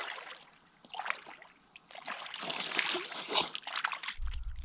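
Light splashing and sloshing of cold water as a hand moves through it, close and intermittent, followed by a brief low thump.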